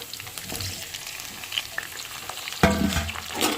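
Tomato pieces fry in a pan with turmeric added for sambar, giving a steady close sizzle and crackle with a louder burst of spitting midway, then a low simmering hiss.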